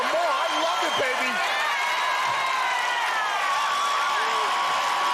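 A live crowd at the American Ninja Warrior season 10 Los Angeles Finals roars in a dense, continuous wash of cheering, with a commentator's voice talking over it.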